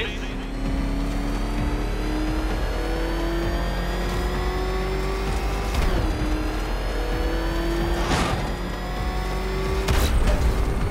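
The Batmobile's engine revs in Batman Arkham Knight, a loud steady drone rising in pitch with several surging accelerations, under voices talking.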